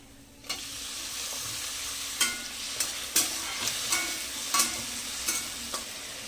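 Tomatoes frying with garlic in a pan for a moong dal dish, with a steady sizzle and a series of sharp spoon scrapes and stirs at irregular intervals, close and alone.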